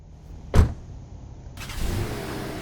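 A taxi car with a sharp thud like a door closing, followed by a rising engine and road noise as the car moves off, close and moderately loud with no talking.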